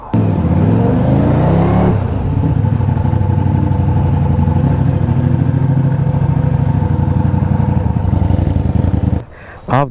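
A Ducati motorcycle fitted with a detuned Panigale engine accelerates hard and close by, its strong throbbing roar rising and holding steady for several seconds before it cuts off abruptly near the end.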